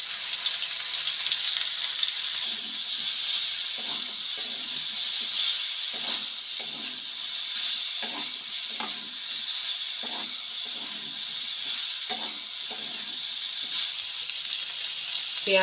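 Two medium chopped onions sauté in a pan with a steady, bright sizzling hiss, while soft stirring scrapes come through at intervals.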